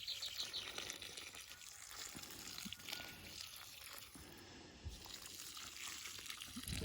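Clean water poured from a watering can over a garden plot of strawberries sown with mustard, a soft steady splashing trickle onto soil, faint and fairly close, with light outdoor background and no talk.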